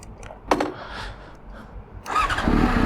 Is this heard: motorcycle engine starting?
yes